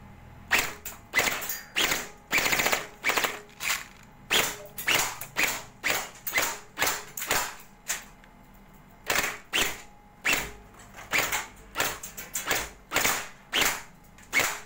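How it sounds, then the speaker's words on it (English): A cheap Runqi P90 airsoft gun fires in full-auto bursts, cap shots cracking in rapid rattling volleys separated by short pauses, loud and close throughout. "finally we are going to shoot the caps because I really like to doing"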